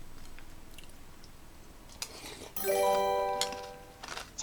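Corn Flakes cereal being chewed at a mukbang, quiet crunching bites followed by a clear ringing ding-dong tone and more chewing and clatter toward the end.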